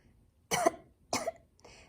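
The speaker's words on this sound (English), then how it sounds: "please pardon my cough" Two sharp, close coughs separated by a short pause, followed by a softer third cough in an otherwise quiet space.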